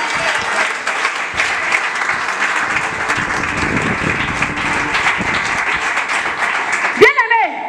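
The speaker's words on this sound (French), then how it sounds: "Acclame le Seigneur Jésus" A church congregation at a Sunday evangelical service applauds loudly and continuously for about seven seconds. Voices are mixed in, and a short shout rises at the end.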